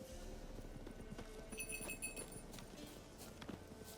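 Goat hooves clopping on the ground in The Witcher 3: Wild Hunt, a quiet, steady series of light footfalls under soft game ambience with a brief chime partway through.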